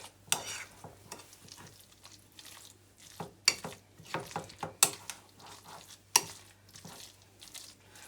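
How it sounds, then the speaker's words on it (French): Rice mixed with mayonnaise and parsley is stirred in a dish, with soft, wet scraping strokes and occasional spoon clicks, close and quiet, coming in irregular bursts. "Et je continue à mélanger. Bien que la mayonnaise prenne dans le riz."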